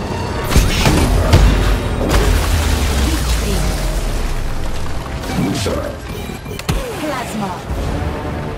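A bomb weapon detonating in the futuristic racing game Wipeout sets off loud booming crashes near the start, then roaring engine and crowd-like noise, with further impacts later on and a synthetic voice speaking.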